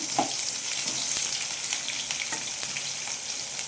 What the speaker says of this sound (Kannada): ಈರುಳ್ಳಿ ಎಲ್ಲ ಚೆನ್ನಾಗಿ ಫ್ರೈ ಆಗಿ ಸಾಫ್ಟ್ ಆಗಬೇಕು